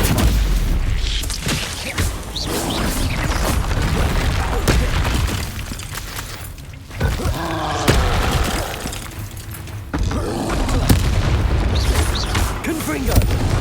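Fiery Confringo spell blasts boom repeatedly in the video game Hogwarts Legacy, heavy explosions and crashing impacts layered with combat noise across a loud, continuous battle.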